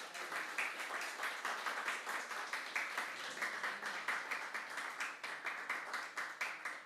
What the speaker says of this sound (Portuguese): Aplauda ao Senhor, glorifica o nome do Senhor.